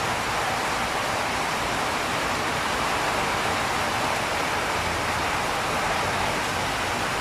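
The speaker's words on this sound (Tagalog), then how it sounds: "Ayun, oh, malakas ang ulan dun, oh." Heavy March rain pouring steadily outdoors, a dense, even hiss that fills the whole stretch without pause or variation, with no voices over it.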